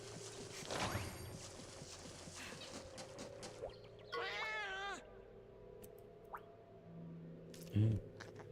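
Cats meow in the Monster Hunter Stories video game: a few short mewing calls around the middle, with a brief low thump near the end, over a soft game music bed.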